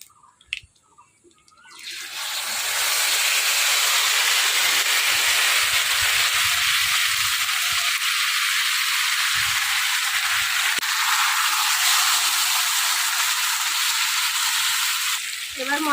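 Hilsa fish dropped into hot oil tempered with nigella seeds, a loud continuous sizzle and hiss that bursts in after a quiet start and holds steady to the end, with no talk over it.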